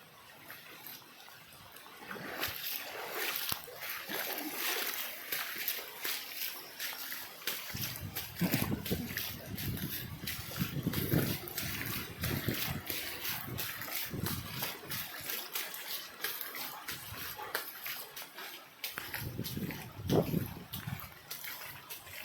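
Water runs continuously through a residential sewage drain, splashing and sloshing at close range with uneven surges. Faint talk sits underneath in places.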